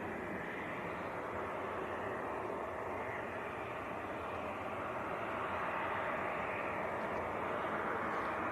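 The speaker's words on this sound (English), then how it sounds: "This is the Aer Lingus to Belfast that's just taxiing out." An Aer Lingus airliner taxis out for a Belfast departure at Leeds Bradford Airport, its engines giving a steady, distant, fairly faint roar that holds evenly throughout.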